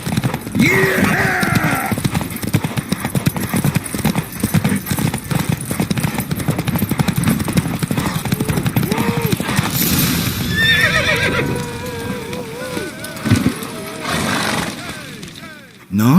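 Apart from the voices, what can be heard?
horse galloping during a race in the video game Witcher 3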